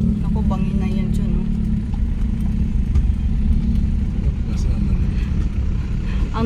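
Motorcycles grind past on a rough, rocky uphill road, giving a steady, loud low engine rumble with clatter throughout, while people talk over the noise.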